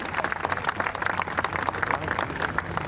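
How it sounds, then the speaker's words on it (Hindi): An audience at the Shakti Swarupa Samagam 2024 gathering in Raigarh claps to welcome Dr. Madhavi Latha: close, continuous, busy applause with crisp individual claps throughout. "जोरदार तालियों से स्वागत करें।"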